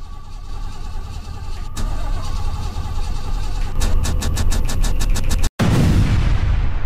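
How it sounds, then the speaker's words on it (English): A car engine cranking over and over without catching in the horror game Fears to Fathom: Norwood Hitchhike, a loud mechanical rumble with rapid repeated starter pulses, cut off abruptly near the end. "Oh my god, the car wouldn't start back up."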